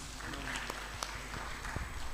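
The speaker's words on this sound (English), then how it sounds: "Please clap for yourselves." Audience at a graduate research policy forum's closing ceremony clapping together in a dense, steady wash of applause that lasts throughout.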